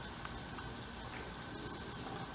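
Water runs into a hydroponic Dutch bucket drip system, a steady close hiss of trickling flow that holds even and unbroken throughout.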